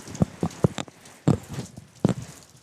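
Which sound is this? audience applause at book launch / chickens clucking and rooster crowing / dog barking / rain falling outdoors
rain falling outdoors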